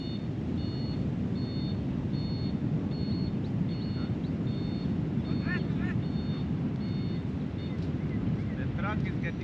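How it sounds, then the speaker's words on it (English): A truck reverses with repeated high backup beeps in a steady rhythm, heard over loud wind rumble, with a few brief chirps or squeaks near the end. "The truck is getting stuck."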